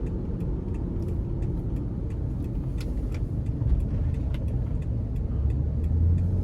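Inside a 2007 Lexus RX 350 with its 3.5 V6 on the move, a steady low engine and road hum fills the cabin, swelling slightly toward the end under light throttle.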